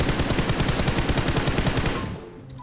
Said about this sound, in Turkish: Adamlar nereden vuruyor görmüyoruz.